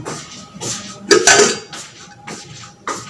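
Potatoes tumble into a metal cooking pan with a few clinking, clattering hits of pot and utensil, close and moderately loud, separated by quieter kitchen noise.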